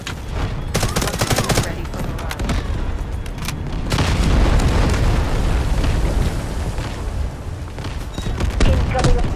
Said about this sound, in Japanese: 味方は空爆使ってるっすね